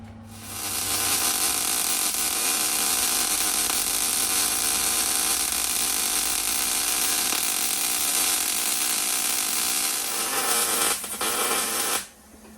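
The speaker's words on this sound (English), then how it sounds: "Okay, let's do some welding." Steady, continuous welding crackle and buzz while fabricating a body dolly for a 1972 VW Super Beetle, holding loud and even for about eleven seconds before cutting off abruptly near the end, with no talk.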